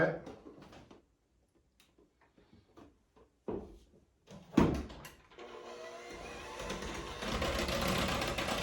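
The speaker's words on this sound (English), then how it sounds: "Now comes the buttermilk. Same thing, we're going to froth this up." A frother whirs through buttermilk and egg yolks in a bowl for whole wheat waffle batter. It starts after scattered clatter and brief knocks, then runs as a steady buzzing hum.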